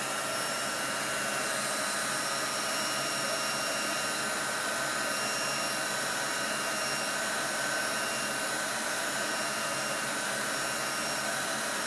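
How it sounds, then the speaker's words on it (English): A heat gun on its cold setting blows a steady, loud, unbroken airy whoosh while drying a chalk craft project, with no talking. "I just happen to have my heat gun. I'm going to use it on cold."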